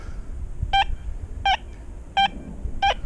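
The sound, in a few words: metal detector tone over a penny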